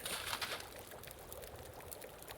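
Water pours in The Long Dark while the character makes water in a survival game, a soft trickling splash that is strongest at the start and then settles into a faint, steady flow.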